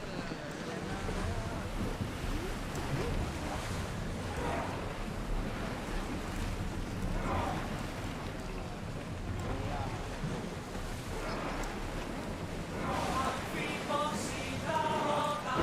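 A ship sailing over waves in a video game, a continuous low rushing wash of water and wind, steady and moderately quiet throughout, with faint tonal game sounds near the end and no talking.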